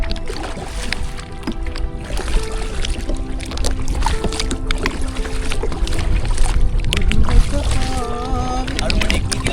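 A kayak paddled across Kantale reservoir, with steady water splashes and paddle strokes running throughout, close and loud beneath people talking and calling to each other on the water.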